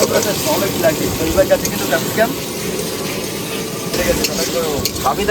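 Large pangas fish frying in a pan, a steady crackling sizzle with occasional stirring scrapes, while voices chat in the background throughout.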